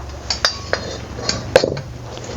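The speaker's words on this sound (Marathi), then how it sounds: "आता मी हे खाली काढून घेते आणि ह्याच्यावरतीच आहे ना आपण एक कढई ठेवूया" Metal kitchenware clinking as a cooker comes off the stove and a kadhai is set down in its place, a few sharp clanks and taps spread over a couple of seconds, close and unaccompanied.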